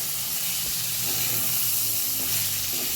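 Peanuts frying in a pan for green tomato chutney produce a constant hissing sizzle over a low hum, steady and close.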